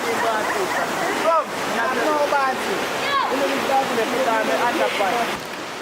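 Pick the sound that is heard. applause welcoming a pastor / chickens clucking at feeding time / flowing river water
flowing river water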